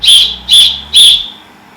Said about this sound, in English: 3 minutes before the top of the hour, we will blow the whistle 3 times.